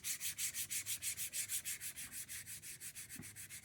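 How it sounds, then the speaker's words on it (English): Wood painted and coated with decor wax is sanded by hand with a sanding block, a close, steady rhythm of soft rasping back-and-forth strokes, about five per second, with no talking. "when you sand the decor wax down"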